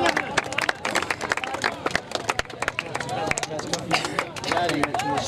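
Crowd applause at a club tournament prize ceremony, a dense, uneven clapping that runs throughout, with a voice speaking over it.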